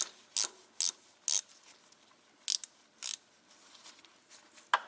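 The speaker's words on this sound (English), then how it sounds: "let me get in here with my speed wrench." A speed wrench ratchets in quick bursts on a rusty rear strut nut of a 2004 Ford Explorer 4X4, with crisp clicking spurts separated by short pauses, close up and with no talking.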